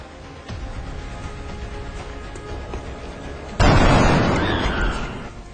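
In the XCOM: Enemy Unknown video game, a low rumbling ambience gives way to a sudden loud blast of weapon fire and explosion that decays over the following seconds, with no talk.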